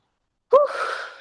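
A single sharp, loud breath during a shoulder posture exercise: a quick gasping inhale that flows straight into a longer, airy, breathy exhale, heard alone with no talk.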